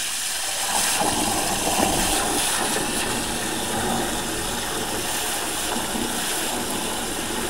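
Water runs and splashes steadily as containers are filled for alpine goats, a continuous rushing flow at moderate volume with a faint mechanical hum beneath and no talking.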